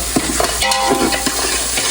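Cumin seeds sizzle in hot oil in a frying pan, a constant close crackle broken by a few scraping stirs, with no voices.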